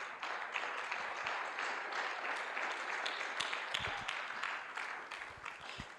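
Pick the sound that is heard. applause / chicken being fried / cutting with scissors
applause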